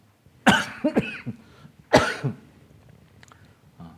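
Several harsh coughs from someone still coughing after COVID ring out close by, two strong fits with a few smaller hacks between them, then quiet.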